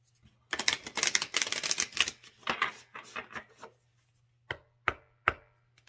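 Dense burst of rapid riffling clicks from a deck of oracle cards being shuffled over about two seconds, tapering into scattered taps and a few sharp isolated snaps, close and fairly loud.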